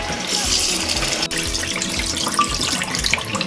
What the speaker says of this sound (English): I've rinsed it several times and the water is clear enough.